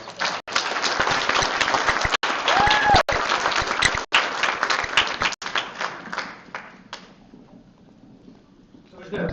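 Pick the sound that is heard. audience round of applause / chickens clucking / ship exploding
audience round of applause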